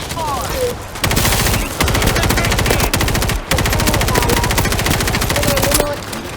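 Rapid sustained automatic gunfire mowing down a zombie horde in the World War Z game's Horde Mode, loud and nearly continuous bursts with brief pauses, voices talking over it at times.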